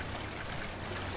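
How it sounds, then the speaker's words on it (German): Water rising in Resident Evil Revelations as a steady, quiet flowing and trickling wash that continues evenly without a break, with no voices over it. "Das Wasser steigt."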